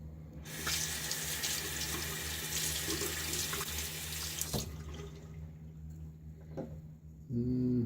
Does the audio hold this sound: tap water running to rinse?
yes